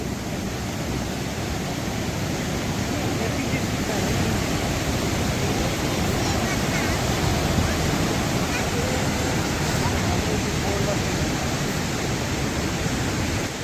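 Fast white water rapids flowing at about 40 km/h rush in a constant, loud roar of broadband noise, unbroken throughout.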